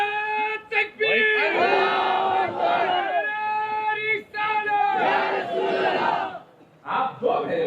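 A large crowd at an Islamic religious sermon roars the Takbeer chant in unison, loud, close and massed voices rising in repeated swelling bursts with brief dips between them.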